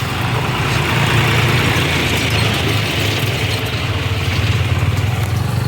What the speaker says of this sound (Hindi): लाल मुरुम ले जाते हुए 3 ट्रैक्टर गए हैं अभी